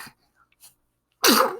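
A single loud, sharp sneeze bursts out near the end after a long quiet stretch, preceded by a couple of soft breaths or small sounds.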